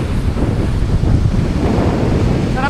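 Strong wind buffets the microphone beside the sea, with waves rolling and washing in a loud, continuous roar close by.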